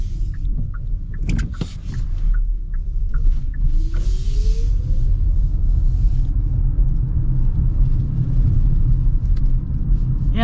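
Inside a 2025 Hyundai Tucson plug-in hybrid on the move, a steady low road rumble fills the cabin, with a few sharp thumps and knocks as the suspension rolls over bumps.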